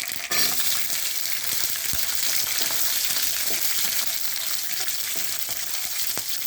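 Whole garlic cloves hit hot tempering oil whose spices have already turned dark, giving a loud, steady, close sizzle with a few small pops throughout and no talking.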